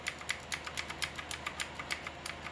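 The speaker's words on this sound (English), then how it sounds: "So I'm clicking on delete key as it boots up." A computer keyboard's delete key is tapped rapidly while a PC with an Asus Prime H610M-E D4 motherboard boots, making a steady run of light clicks close by over a constant low hum.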